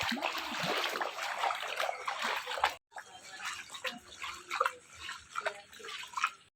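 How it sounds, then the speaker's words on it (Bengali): Feet step into floodwater on a road, with steady sloshing and splashing throughout, close by. A brief pause breaks the sound partway through. "এই যে এবার জলে দেবো পা, কি জল রাস্তা।"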